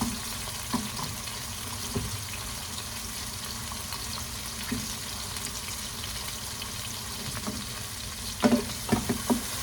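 Sardines and tomatoes fry in a pan with a steady, moderate sizzle throughout, broken by a few soft knocks and stirring clatters near the end; no one speaks.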